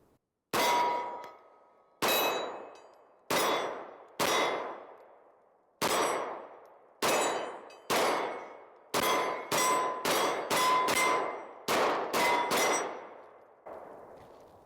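Bul Armory Axe Cleaver pistol firing Federal aluminum-cased ammunition outdoors, a string of about fifteen sharp cracks, first spaced singly, then a faster burst of rapid shots, each ringing briefly.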